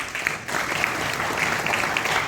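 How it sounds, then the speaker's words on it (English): Audience applause fills a hall at a DXN direct selling company event, a dense, steady wash of clapping from many hands that holds loud and even throughout without a break. "A round of applause for all of you."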